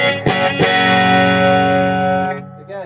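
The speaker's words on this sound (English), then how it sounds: "that's your kind of British invasion sound, I suppose, but slightly hotter" Electric guitar played through a Supro Delta King amp with reverb for a British invasion tone, a single loud, slightly overdriven chord rung out after a couple of quick strums, sustaining and then cut off.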